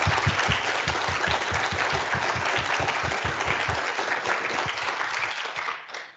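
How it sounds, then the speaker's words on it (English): A conference audience gives a round of applause at a closing conference, dense clapping with a few close, rhythmic claps standing out, tapering off at the end. "I think we all need to give you a round of applause for all this work."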